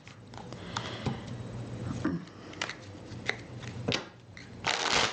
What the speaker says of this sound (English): Let me go ahead and give these another shuffle